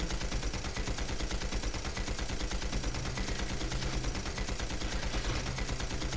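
Rapid, unbroken gunfire rattles on for several seconds in the team-based action game Panzar, each shot landing in a dense, even rhythm.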